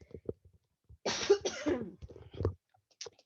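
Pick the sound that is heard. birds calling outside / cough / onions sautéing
cough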